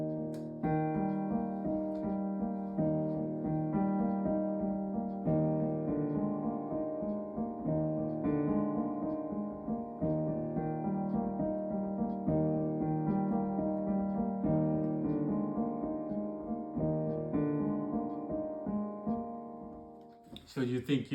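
Sustained piano chords ring out together, several notes struck at once in a steady rolling pattern, with a brief noisy burst at the very end.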